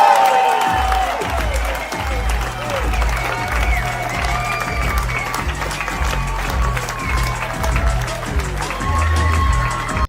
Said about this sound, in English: Round of applause for Whitney Cummings.